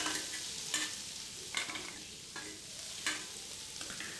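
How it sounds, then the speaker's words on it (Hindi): Onions frying in oil in a kadai, a steady close sizzle with a few brief stirring scrapes spaced about every three-quarters of a second, no voices. "कढ़ाई पे मेरी प्याज फ्राई हो रहे हैं"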